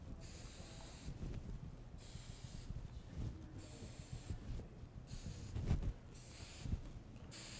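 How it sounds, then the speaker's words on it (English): Hair product sprayed from well back during cowlick styling indoors, a few soft hissing bursts repeating through the clip, with a louder burst near the end. "So look how far away I'm spraying it."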